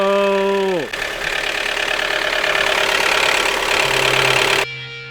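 A knocking car engine runs loud and close, starting with a falling whine that drops away into a rough, steady engine roar before cutting off near the end. No one speaks.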